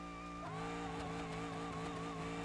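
Drag car in a racing video game, a steady high engine drone that shifts pitch sharply partway through and then holds a loud, continuous tone with screeching overtones.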